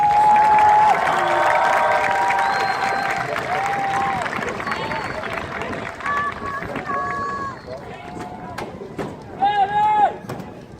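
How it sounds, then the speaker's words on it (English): A graduation ceremony audience applauds and cheers, a loud sustained wash of clapping and crowd noise with whoops and voices rising over it, swelling again toward the end. "Give them a big round of applause"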